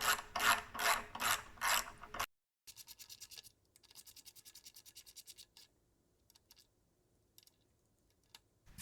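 Ratcheting wrench tightening the front wheel bolts on a Suzuki Marauder GZ250 motorcycle, a loud burst of quick clicking strokes followed by lighter, rhythmic ratchet clicks and scraping that fade to faint, sparse ticks.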